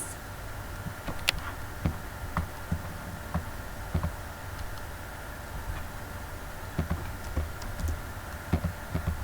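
Keyboard keys clicking during 3D modeling work in Blender, a steady series of sharp, close taps at irregular intervals with no talking.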